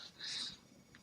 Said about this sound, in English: You'll have to excuse my cat.